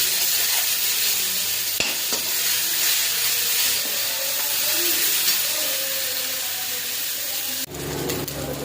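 Ginger, chilli, cumin, coriander and turmeric frying in hot oil in a wok, a loud continuous sizzle and hiss with a couple of sharp knocks, close up.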